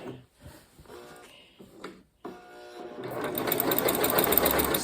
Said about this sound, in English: So now I'm going to sew the last strip on, and the top to our quilt